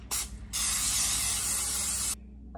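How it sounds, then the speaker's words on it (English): A short burst of aerosol cooking spray onto a muffin tin, then a longer steady hiss lasting about two seconds before it cuts off abruptly. "Muffin tin. Guess I'll spray it really well."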